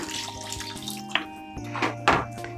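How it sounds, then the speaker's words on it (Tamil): A glass of water is poured into thick ground butter chicken masala paste, producing a few close splashing gushes and drips over a steady tonal background hum. "நான் ஒரு கிளாஸ் அளவு தண்ணி ஊற்றிருக்கேன்"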